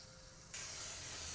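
Water boiling in a pot with turmeric and salt on a gas stove gives a soft, steady hiss that abruptly grows louder and brighter partway through.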